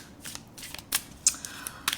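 Tarot cards are shuffled by hand, giving a few quick, crisp riffling and snapping bursts spaced irregularly over two seconds, close and fairly quiet, with no talk.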